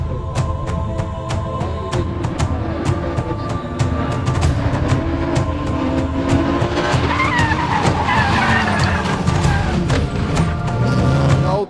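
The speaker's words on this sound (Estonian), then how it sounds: "Auto käib siin väga risti, ei püsi üldse kuidagi siin kurvis sees." A race car's engine roars loud and continuous while tires squeal and skid through a corner of a race track, the car sliding sideways, with sharp clicks and crowd noise around it.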